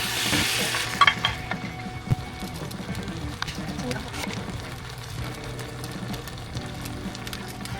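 Jeyuk-bokkeum pork stir-fried in a pan with ginger powder gives a steady sizzle with a few sharp clatters near the start, under voices talking.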